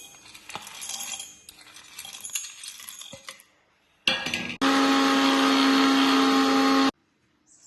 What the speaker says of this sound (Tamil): இப்போ ஆற வச்சுட்டு மிக்சியில் போட்டு அரைக்கணும், பவுடர் பண்ணணும்.